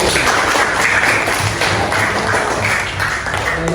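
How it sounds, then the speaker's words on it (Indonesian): Classmates clapping for group one after their presentation in a primary school social studies class, a loud, steady patter of many hands, close by and without talk. "Tepuk tangan untuk kelompok satu"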